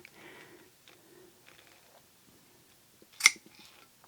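A sharp snip rings out from Snap-on 786CF flush cut pliers, followed by small ticks and rustles of handling in a quiet room.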